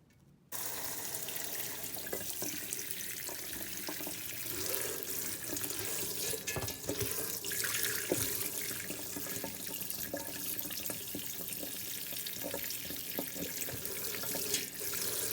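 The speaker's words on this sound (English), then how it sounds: "what I'm doing here is just washing off the sea moss" Water running from a faucet into a sink while sea moss is washed, a steady rushing stream starting abruptly and continuing with small splashes and clatters as the moss is handled.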